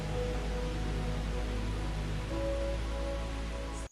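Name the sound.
rain and wind at night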